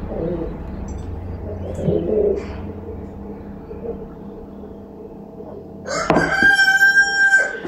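A rooster in a Kutaisi yard calls to its hens with a loud, close cock-a-doodle-doo near the end, after a stretch of soft clucking and quiet ambient noise, with no talking.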